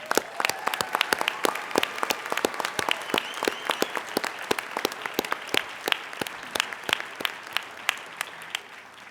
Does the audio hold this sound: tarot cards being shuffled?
no